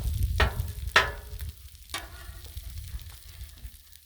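Breakfast sandwich frying on a Blackstone griddle, a steady close sizzle broken by a few sharp scraping spatula strokes near the start, then settling into a softer crackle.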